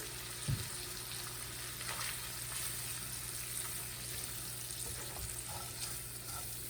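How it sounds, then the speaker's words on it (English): Self-rising flour being stirred into sausage grease in a pan, a soft, steady sizzle and hiss running low and even throughout, with a couple of light scraping knocks from the stirring. "You want to stir this and let it get integrated into the grease."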